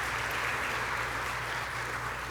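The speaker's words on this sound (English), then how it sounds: "Yeah, you can applause for them" An audience at a political talk applauds pro-life pregnancy centers, a dense, steady burst of clapping at fairly close range for a couple of seconds with no talk over it.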